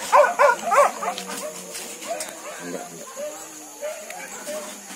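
Hunting dogs on a wild boar hunt at Tanjung Barulak give a quick burst of sharp barks at the start, then fall to softer whines and yips under background voices.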